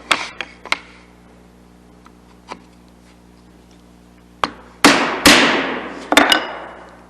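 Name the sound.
chiseling wood by hand for dovetail tails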